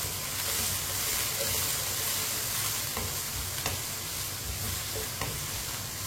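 Finely chopped potatoes being stir-fried in a pan for a spiced okra dish, with a dense, continuous sizzle and the scrape of stirring close by. Faint soft knocks are heard now and then.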